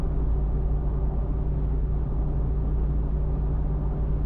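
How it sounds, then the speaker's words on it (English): Steady, loud low rumble of a Jeep Wrangler Rubicon 392 Final Edition V8 exhaust while driving on large tires with a soft top, a constant drone mixed with road noise and no break from start to finish. "And listen to that exhaust."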